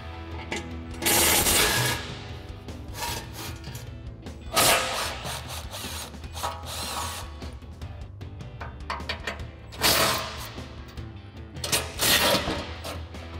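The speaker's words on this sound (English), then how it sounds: "we're going to grab our 15 millimeter socket on our impact, go ahead and remove the 2 front bolts" Impact wrench with a 15 mm socket removing the two front bolts on a 2021-2024 Ford Bronco while fitting a nudge bar: several loud buzzing bursts separated by pauses, close up, over a steady background hum.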